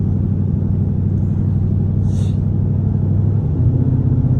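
A straight-piped Jeep's raw exhaust drones with a loud, continuous low rumble close by, swelling slightly toward the end as the throttle opens.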